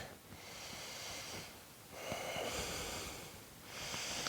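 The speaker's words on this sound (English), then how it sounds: "close the eyes and breathe." Slow, deep yoga breaths during a seated forward fold in a vinyasa flow: soft, airy rushes of air that rise and fall in about three even cycles, close and steady, with no talking.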